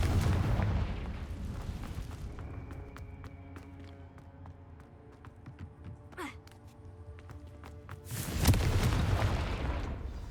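A Confringo spell explosion in Hogwarts Legacy bursts as a loud booming blast at the start, followed by quieter game ambience and clinks, then a second heavy explosion near the end.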